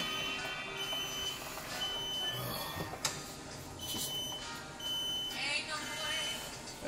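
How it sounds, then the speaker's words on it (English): Smoke alarm in a home kitchen sounding while oxtails braise in red wine, a steady high electronic beeping that persists throughout, fairly loud, with a voice talking over it at times. "that is one sensitive alarm, Kim."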